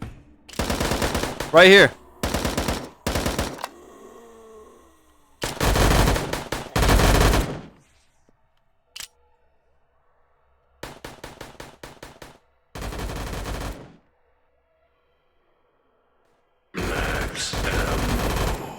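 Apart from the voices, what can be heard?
AUG rifle gunfire in a video game (VRChat)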